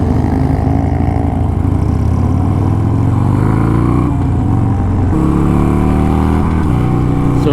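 A Harley-Davidson Sportster Iron 883 with a Stage 1 upgrade, TBR 2-into-1 exhaust and Arlen Ness filter, ridden on the road. Its engine drones loudly and steadily throughout, with pitch shifts as the rider changes speed, and no talk.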